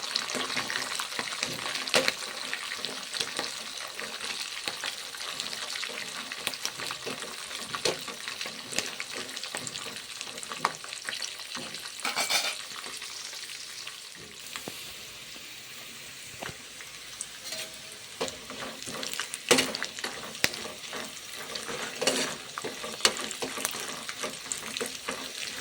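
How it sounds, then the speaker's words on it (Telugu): Peanuts, green chillies and dried red chillies frying in oil in a pan for pulihora, a steady crackling sizzle with occasional stirring scrapes, continuous and close. "పల్లీలు ఫ్రై అయిన తర్వాత పచ్చిమిర్చి, ఎండుమిర్చి వేసి వాటిని కూడా బాగా ఫ్రై చేసుకోండి."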